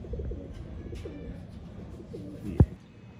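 Soft, low cooing of a Royal Teddy pigeon murmurs through the clip, ending with a sharp brief knock near the end.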